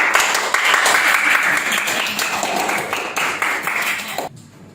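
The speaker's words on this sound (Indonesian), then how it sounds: "Sekali lagi aplaus untuk kita semuanya anak" Loud, sustained applause from a group of schoolchildren in a classroom, celebrating the winning team at the close of a lesson, with dense clapping throughout before it cuts off near the end.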